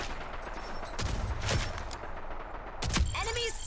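Gunfire in a video game shootout, a couple of loud clustered bursts of shots over steady background noise, with a player's voice speaking faintly in between.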